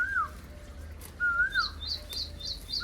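A koel calls in a village, its rising whistled notes repeating twice in the foreground, followed by a quick series of short, higher chirps, over a low steady background hum.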